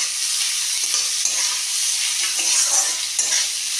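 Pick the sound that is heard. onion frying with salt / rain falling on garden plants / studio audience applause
onion frying with salt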